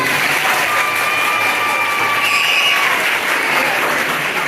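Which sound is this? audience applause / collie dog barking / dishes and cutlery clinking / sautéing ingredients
audience applause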